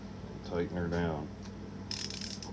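Screws being tightened on a STIHL MS661C chainsaw, with a short burst of ratcheting clicks near the end after someone speaks briefly, all close and fairly quiet.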